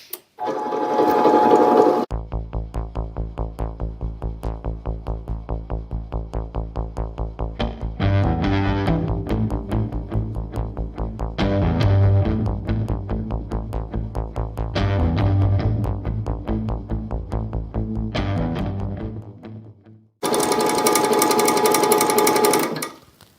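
A metal-cutting pass runs on a part from a 1900s drill press under rebuild, a steady droning machine tone with harmonic hum and periodic swells, bracketed by louder bursts of noisy motor sound at the start and end.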